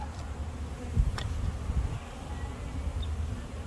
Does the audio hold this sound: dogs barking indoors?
no